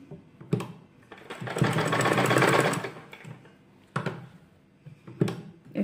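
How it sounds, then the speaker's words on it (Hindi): An electric sewing machine stitches a garment sleeve in short bursts, with a long steady whirring run in the middle and brief clattering starts and stops around it, close and clear with no talk. "मैं इस पे दबाते हुए ऐसे सिलाई लगा दूंगी"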